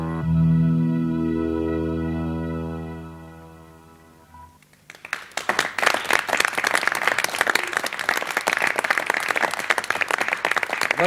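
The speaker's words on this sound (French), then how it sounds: "vous êtes applaudis par des jeunes messieurs qui participent aujourd'hui à l'émission" A young studio audience bursts into loud, sustained applause with dense clapping that starts abruptly after a few seconds of a low droning tone and continues to the end.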